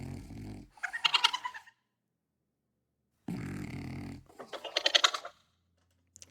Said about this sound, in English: found some vocalizations from the meerkat that were, I don't know, a little bit closer to like snoring sounds